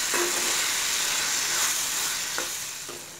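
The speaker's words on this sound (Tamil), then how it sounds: "இப்போ இதெல்லாத்தையும் சேர்த்து நல்லா வதக்கிட்டு நம்ம மிக்சியில் அரைச்சி எடுத்துக்க போகிறோம்." Fish curry spice ingredients sauté in a pan with a steady, close sizzle and a few brief stirring scrapes, easing off slightly toward the end.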